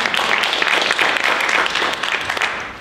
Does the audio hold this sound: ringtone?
no